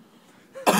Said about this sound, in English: I'm coughing cinnamon.